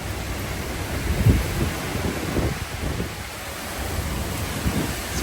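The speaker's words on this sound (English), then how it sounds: "See, this wind comes through sometimes. It's pretty crazy." Hurricane Milton wind gusts roar in a broad, rumbling rush that swells and surges over about five seconds, close and steady, with no voices.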